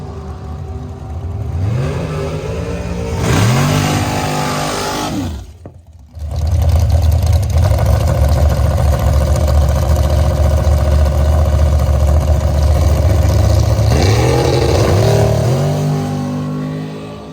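A drag race car engine revs hard in rising sweeps, cuts out briefly, then roars steadily at high revs before climbing again; loud and close.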